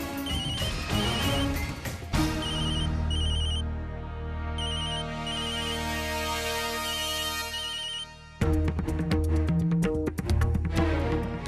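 A phone ringtone plays steadily, a repeating electronic melody with a brief pause before it resumes, loud and close, with no voices.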